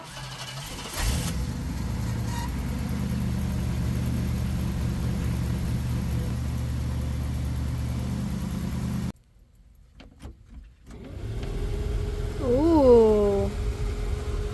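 A Ford F100 truck engine runs at a steady idle, cuts off, then cranks and restarts with a rising rev before settling back to a low idle; keys jangle briefly.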